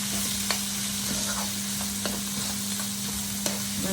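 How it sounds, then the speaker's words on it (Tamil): Onions frying lightly in a pan for Sri Lankan-style pasta give a steady low sizzle, with a few sharp clicks of a spoon stirring against the pan. No voices are heard. "ஆனியனை இப்போ சேர்ப்போம். இது கொஞ்சம் லைட்டாக ஃப்ரை பண்ணி வரைக்கல."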